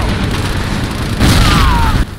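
Anti-tank grenade blasts in the World War II strategy game Faces of War, a continuous deep rumbling roar that swells louder and denser midway, with a brief whistling streak over the booming before it cuts off.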